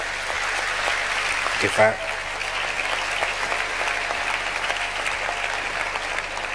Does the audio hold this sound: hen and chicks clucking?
no